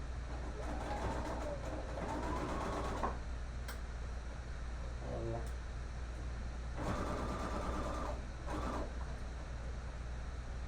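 A sewing machine stitches the seam of a 3D face mask with a half-inch allowance, its motor whirring in two steady bursts of a few seconds each over a constant background hum.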